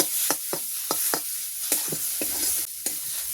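Spice masala fries in a pan while being stirred, a constant hiss of sizzling with a string of sharp scraping strokes from the spoon, close and alone.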